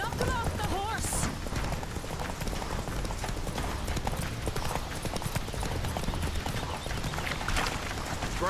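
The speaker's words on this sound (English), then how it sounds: "Knock him off the horse!" Horse hooves clip-clop at a gallop in The Witcher 3, a steady rapid beat running the whole way under a dense layer of game music and effects, with brief voice-like sounds early on.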